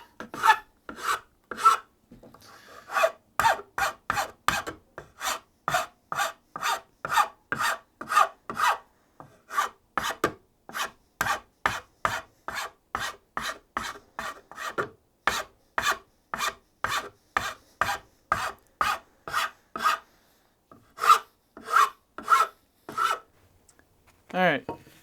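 Repeated rasping strokes of a hand file on wood, evenly paced back-and-forth scrapes, close and clear, with brief pauses between runs.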